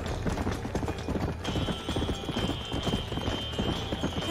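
A horse gallops in the Western video game Red Dead Redemption, with fast, rhythmic hoofbeat clip-clops pounding steadily and close throughout, layered over a bright background hiss of game ambience.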